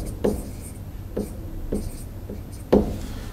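Pen writing on paper during a math lesson on circles: a few distinct scratchy strokes at irregular intervals, close and fairly quiet, with no talk.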